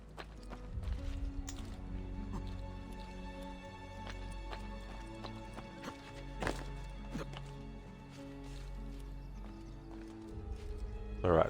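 Horse hooves clip-clop in the video game Assassin's Creed Brotherhood, with repeated light hoof knocks and the occasional whinny over background game music and ambience.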